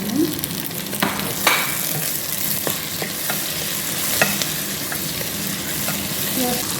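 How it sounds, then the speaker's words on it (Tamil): Tomatoes sautéing in a pan as they are stirred: a steady, close sizzle broken by scattered clicks and scrapes of the spoon, with no one talking. "தக்காளி நல்லா வதங்கணும்."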